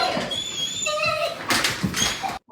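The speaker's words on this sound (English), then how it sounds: "You already hear this dog" A dog whimpering in high, thin tonal whines across a short stretch, fairly close, with some light rustling and knocks between the cries.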